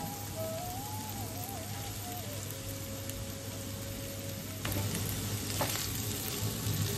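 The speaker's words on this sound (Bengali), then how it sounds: "এবার আমি সেদ্ধ করে রাখা আলু দিয়ে দিচ্ছি।" Boiled potatoes go into a pan of onion and spice masala that is frying steadily, giving a continuous close sizzle with a brief louder burst partway through.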